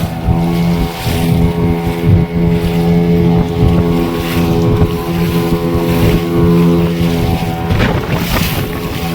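Loud gusting wind at sea buffets the microphone over a droning fishing boat engine and splashing waves, steady throughout with no talking.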